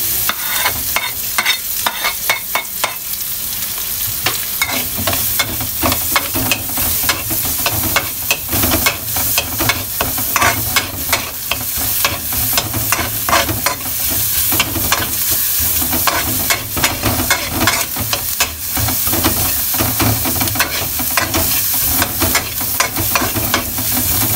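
Garlic sautés in a pan for chicken afritada under a loud, continuous sizzle and hiss, with frequent quick scraping stirs running the whole time, close-up and without talk.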